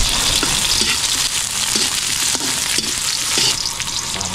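Garlic and onion sauté in a hot pan with a loud, steady sizzle and frying crackle, a utensil occasionally scraping and tapping as the mixture is stirred.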